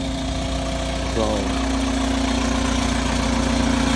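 A Cummins diesel engine in a Case machine idles after a VE injection pump installation, a loud, steady low rumble with a knocking pulse, and a brief word spoken over it.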